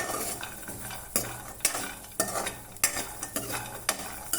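A pan scraping and stirring as dried coconut dry-roasts, steady rustling with regular sharp scrapes of a spatula against metal.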